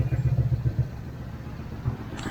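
A Honda PCX160 scooter engine with an open throttle body idles with a low, pulsing putter at moderate distance, briefly louder at the start and fading to a quieter rumble.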